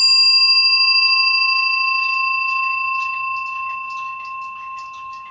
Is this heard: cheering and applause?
no